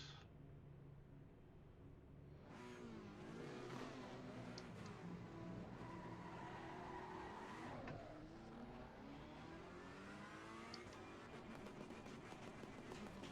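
A race car in Assetto Corsa Competizione roars around the Sanford circuit on a stock setup, its engine revving up and down through gear changes with a steady loud drone and brief tire squeal, no talk.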